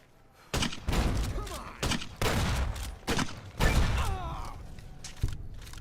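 Grenade launcher rounds explode one after another in a modded Fallout game. Several loud, close blasts come in uneven bursts with short gaps between them, and rattling debris and grunting sounds trail after.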